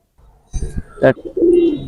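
Pigeons in a loft, a Teddy cock and a red-winged hen, give a few low, close coos after a soft start, including one longer rolling note near the end.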